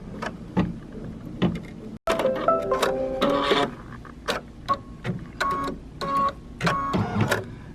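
A sewing machine stitches a zigzag finishing edge around a scrappy appliqué on a kids' T-shirt, its needle running in close, steady mechanical bursts with short pauses between runs.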